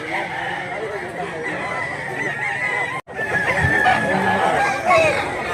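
A banugon fighting cock crows amid a busy outdoor cockerel market in Mantalungon, Cebu, other fowl clucking around it, with steady crowd chatter and people talking throughout.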